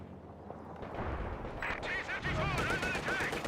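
Machine gun fire in the Company of Heroes 2 strategy game, bursts of rattling shots mixed with other battle noise and explosions, with a commentator's voice talking over it.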